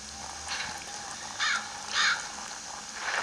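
A bird caws in Luigi's Mansion 2, a few short harsh calls at a moderate distance over a steady background hiss, with no speech.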